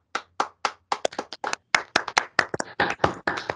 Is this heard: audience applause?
yes